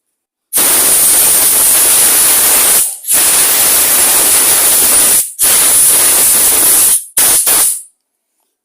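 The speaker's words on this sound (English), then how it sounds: "Take some air and just blow it off." Strong bursts of compressed air blow off carburetor and fuel passage parts of a line trimmer being repaired after long storage, loud close hissing blasts with short gaps, ending in several quick puffs.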